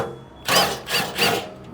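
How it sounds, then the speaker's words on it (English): A 12 mm socket backs bolts out under a Toyota Prado 250, giving three loud close bursts of ratcheting or power-tool whirring with short gaps between them and no talking. "grab a 12 mil socket and we'll remove"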